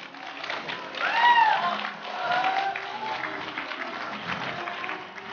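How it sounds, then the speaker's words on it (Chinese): A studio audience applauds on a Chinese television dating show: steady, moderately loud clapping with a faint crowd murmur that swells early and then holds even until the end. "掌声祝福他们。"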